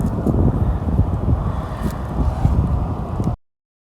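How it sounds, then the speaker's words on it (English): Strong gusting wind, forecast at 40 to 50 miles an hour, roars and buffets a microphone outdoors on a hunting trip, loud and continuous for about three seconds before cutting off abruptly. "the wind was way out of control"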